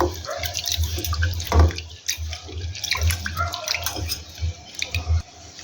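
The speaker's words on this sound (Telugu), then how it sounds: "ఇందులోకి వాటర్ వేసేసుకొని శుభ్రంగా ఒక 2 సార్లు కడిగి మళ్ళీ ఫ్రెష్ వాటర్ యాడ్ చేసుకోవాలి." Pigeon pea lentils being washed by hand in water in a bowl in a kitchen, with irregular splashing, sloshing and dripping at close range, plus a low background hum.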